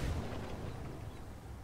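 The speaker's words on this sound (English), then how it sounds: "one of the artilleries, brings a shell down towards him." Artillery shell firing in the tank battle game World of Tanks, a deep booming blast at the start followed by a long rumbling decay, loud and dense.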